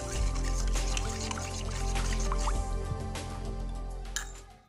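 Turmeric powder and detergent powder being stirred into warm water in a bowl, with soft close dripping, sloshing and liquid squishing sounds.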